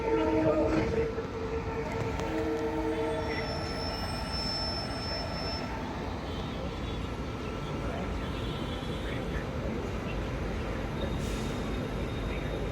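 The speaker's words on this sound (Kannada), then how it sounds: "ಇನ್ನೊಂದು ಡೀಸೆಲ್ ಇಂಜಿನ್ ಬರ್ತಾಯಿದೆ" A diesel locomotive pulls into Rajkot railway station with a steady, heavy rumble and rolling wheel noise, a brief horn-like tone near the start and a voice speaking over it.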